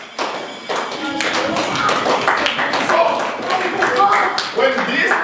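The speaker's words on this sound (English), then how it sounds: "I'll clap them for it." Hands clap and tap irregularly in a classroom, with loud claps mixed among overlapping voices talking throughout.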